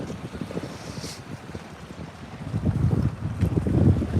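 Gusty wind buffets the microphone on an open reservoir on a cool fall day, a steady low rumble that swells louder toward the end, with no voices.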